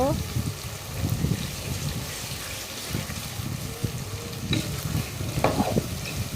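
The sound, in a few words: beef and potatoes being stirred and fried in a pan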